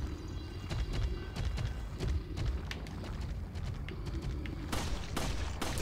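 Pistol shots in the video game Resident Evil 4, a quick series of sharp close cracks at uneven intervals over steady game noise, with a tighter cluster of louder reports near the end.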